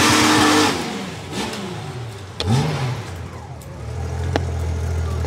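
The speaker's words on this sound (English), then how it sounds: "This is a GL1500 six-cylinder with under 100 horsepower." A 1991 Honda GL1500 Goldwing six-cylinder motorcycle engine, under 100 horsepower, revs loudly up and down in several swells, with a steady idle rumble between blips.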